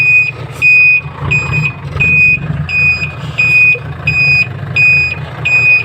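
A truck's reversing alarm beeps in a regular repeating pattern, loud and close, over the low rumble of an idling engine.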